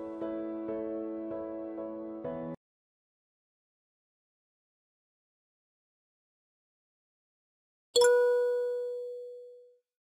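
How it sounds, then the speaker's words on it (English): Notification sounds from a WooCommerce Notification plugin: a short, pulsing chime tone lasting a couple of seconds, then after a long silence a single bright ding that rings out and slowly decays. "Notification can show with a sound on the front end."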